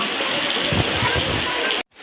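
Steady rain pouring on a rainy day, a dense close wash of hiss that runs unbroken for about two seconds before cutting off abruptly.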